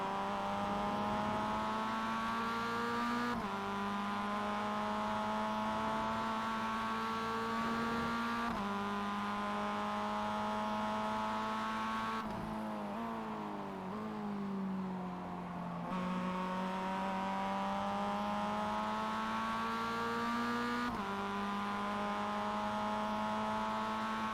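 A Mazda race car laps a track with a steady, loud engine drone, its pitch rising through gears with shifts every few seconds and dipping briefly through a turn.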